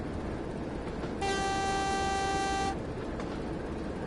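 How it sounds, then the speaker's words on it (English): A steady horn tone from a train in Train Sim World on the West Somerset Railway sounds for about a second and a half over constant rumbling cab and track noise, with no voices. "That's our horn."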